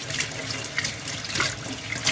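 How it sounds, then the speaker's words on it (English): Running tap water pours into a sink while a blender cup is rinsed, a steady close splashing rush throughout. "I rinsed this out in the sink."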